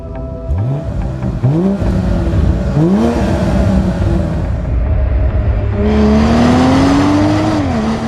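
A BMW 840i Gran Coupe with a six-cylinder engine and ZF 8-speed automatic accelerates hard, its revs climbing in quick steps through several upshifts, then pulling into a long, rising drone, loud and close.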